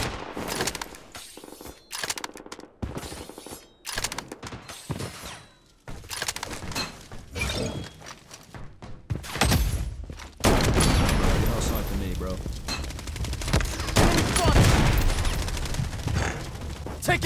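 Gunfire in the mobile shooter BloodStrike, scattered shots early giving way to sustained loud automatic fire and combat noise in the second half, with voices talking over it.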